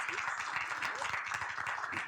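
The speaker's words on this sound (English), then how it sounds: "Another round of applause." An audience at a couples Q&A panel applauds, a dense continuous round of clapping heard at moderate level without a break for the whole moment.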